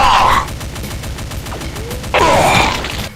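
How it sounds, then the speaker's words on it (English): Full-automatic fire from a Commando enemy in a Doom mod: a loud, rapid burst of shots in even rhythm, pausing briefly before another dense burst, with game effects mixed in. "it will continuously do a slightly less accurate, full automatic shots until stunned, killed, or out of sight"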